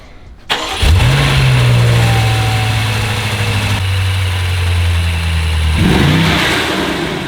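BMW F92 M8 with Eventuri carbon fiber intakes starting and then idling steadily, a loud, close, continuous engine drone with a slight change in pitch partway through and a brief rev near the end.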